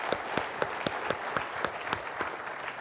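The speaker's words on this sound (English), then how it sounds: "we owe a round of applause to HubSpot for putting on such an awesome event for us" Applause at the INBOUND 2012 marketing conference, a steady crowd clapping with a few sharp, distinct claps standing out on a regular beat, moderately close and with no talk over it.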